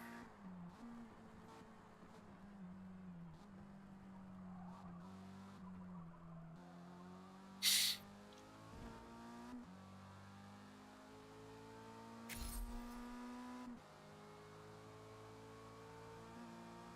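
A Mazda MX-5 racing in a video game drones through steady engine revs that rise and fall with gear changes, with two brief bursts of tire squeal, at a fairly low, even level.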